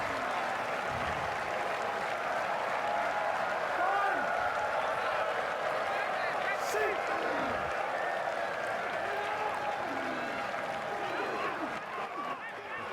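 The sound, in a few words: rugby stadium crowd cheering and applauding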